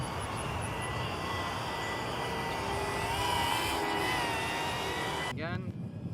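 A Mini QBiT drone flies outdoors in wind, its motors giving a continuous droning whine that swells slightly mid-flight and then shifts pitch sharply near the end. Someone talks over it.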